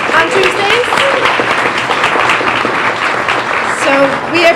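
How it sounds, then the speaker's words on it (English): Dense round of applause from an audience at a science cafe evening, steady and loud throughout with many overlapping hand claps, and a voice briefly audible beneath it. "If we can all give our friends at the last round a big round of applause."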